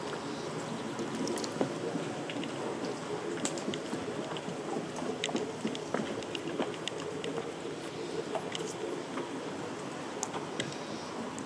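Rain pattering on plants in a wet garden, a dense steady hiss with scattered close drips and taps throughout, alone without voices.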